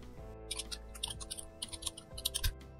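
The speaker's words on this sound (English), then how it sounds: "Or you can type their email addresses." Rapid clicking of keys on a computer keyboard as someone types email addresses, a quick irregular run of close, crisp taps over a steady low hum, with no talking.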